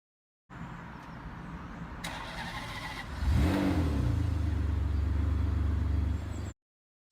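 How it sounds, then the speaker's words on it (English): A Ferrari 599 GTO V12 on its stock exhaust settles into a deep idle, then flares into a loud rising rev that drops back to a heavy, steady rumble before cutting off. "Some incredible revs from the stock exhaust."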